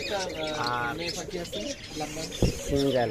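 Parakeets for sale chirp and tweet in quick bursts close by, while a person talks over the birds.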